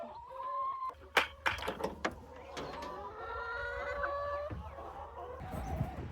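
Several young chickens cluck and squawk close by, with a few sharp knocks and a rising warble mixed in.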